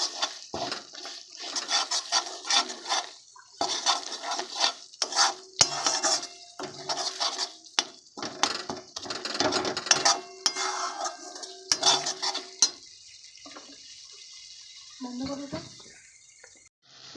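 Turmeric being stirred and sautéed in oil in a metal pan for mutton kosha, with repeated scraping and clinking of a spoon against the pan and soft sizzling, steady and close, fading into quieter frying near the end.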